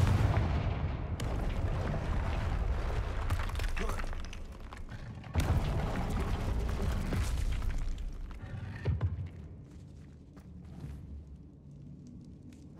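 Confringo fire spell blasts in Hogwarts Legacy: heavy booming explosions burst out in several loud hits with crackling, shattering debris, then fade to a quieter rumbling tail.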